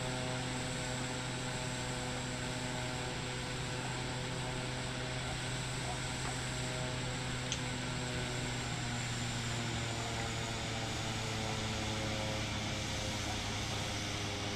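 A Pilatus PC-12 turboprop engine drones steadily in a flight simulator, a loud continuous hum with stable tonal whine and no break throughout.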